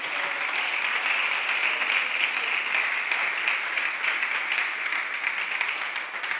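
Congregation at a church sermon breaks into loud, sustained applause, many hands clapping in a dense, even roar that holds steady from start to finish.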